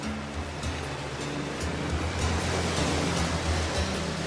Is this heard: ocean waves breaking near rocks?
yes